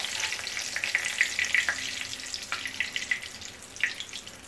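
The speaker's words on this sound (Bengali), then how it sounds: "এই তেলের মধ্যে এখন আমি জিরে, তেজপাতা" Cumin seeds and bay leaves frying in hot oil, a crackling sizzle with sharp pops and spits scattered throughout, close and moderately loud, no talking.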